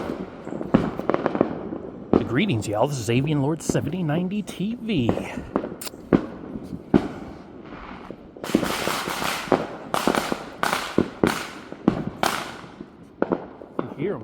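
Fourth of July fireworks pop and bang outside at night, a dense string of sharp explosions both near and distant, with someone talking over the first part.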